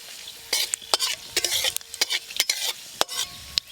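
Dried red chillies and five-spice (panch phoron) tempering sizzling in mustard oil in a village kitchen, with bursts of crackling and quick stirring scrapes, close and lively, no speech.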